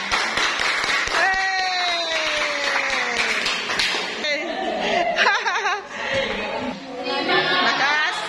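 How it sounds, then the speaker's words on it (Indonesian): Children at an orphanage in Makassar clap in a burst of scattered applause. Their voices and laughter ring out over it, close and lively. "Puji Tuhan, tepuk tangan dulu semuanya."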